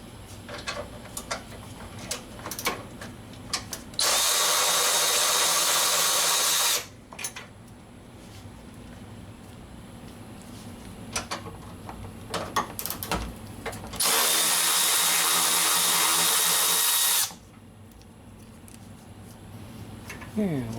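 A power drill fitted with a swivel extension works on a radiator cooling fan bracket in a 2009-2015 Honda Pilot, giving two loud sustained bursts of about three seconds each, with clicks, handling noises and a talking voice between them.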